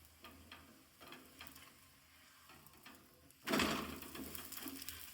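An aloo paratha roasting in oil on a flat pan in a village-style kitchen: faint ticking crackle at first, then a louder, steady sizzle bursting in past the midpoint and holding to the end.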